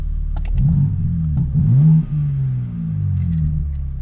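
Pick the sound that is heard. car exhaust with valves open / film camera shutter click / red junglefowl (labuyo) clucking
car exhaust with valves open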